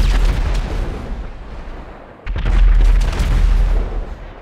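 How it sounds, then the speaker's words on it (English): A UFO's laser cannon fires in a modded GTA V game with heavy, booming blasts that sound like artillery. There is a sustained loud barrage, a brief dip, then a second louder burst. "well, we have a laser cannon."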